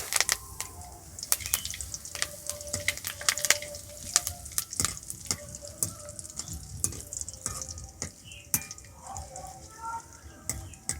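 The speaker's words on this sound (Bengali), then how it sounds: "কারি পাতাটাও একটু ভেজে নিচ্ছি।" Curry leaves crackle and pop in hot oil after cashews and raisins, with sharp irregular spits over a faint sizzle and a voice speaking softly at times.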